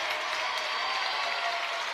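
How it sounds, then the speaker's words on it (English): Washington Court House fans at a basketball game against Miami Trace applaud their team's defense, a dense, even wash of clapping and crowd noise holding at one level from start to finish. "Washington faithful applauding their team's defense."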